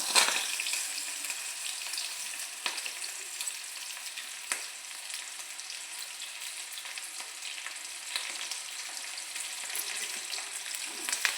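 Chilies and onions sizzle and fry in a hot pan, a steady crackling hiss with occasional stirring clicks, close and continuous with no talk.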